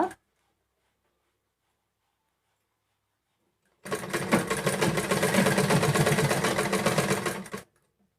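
Sewing machine running steadily for a few seconds as it stitches a blouse side seam, loud and close, starting after a long near-silent pause and stopping abruptly.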